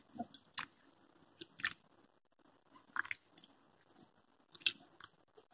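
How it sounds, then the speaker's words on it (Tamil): Soft squishy, crunchy squeezes from a tomato crushed by hand into tamarind water for Madras-style fish curry, coming in a few brief, quiet bursts separated by near silence. "இந்த ஒரு தக்காளிய நல்ல கையில பிழியணும்"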